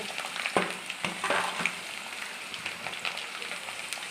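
Small diced potato pieces frying in hot oil with bay leaves in a pan, a steady, soft sizzle broken by a few sharp clinks and scrapes of stirring.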